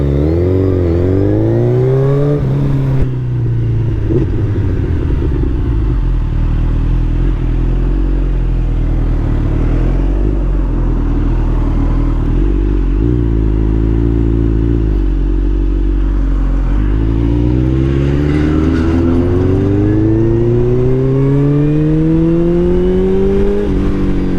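A Suzuki Hayabusa superbike fitted with an Akrapovic full-system exhaust revs loudly and close, its engine climbing and falling through several throttle blips over a deep sustained idle.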